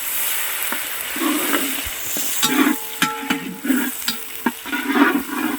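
Cumin and large onions frying in a big batch of oil: a continuous crackling sizzle with intermittent scraping and clanking stir strokes, close and moderately loud, with no voices.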